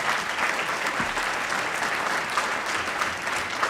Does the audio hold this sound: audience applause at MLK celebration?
yes